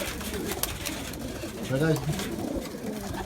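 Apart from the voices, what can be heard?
racing pigeons cooing in a loft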